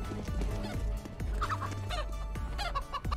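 A chicken clucks in the Counter-Strike video game. Short fowl calls and clucks sit over busy game audio with low rumbling and other effects, fairly close and mixed into the action, with no talk.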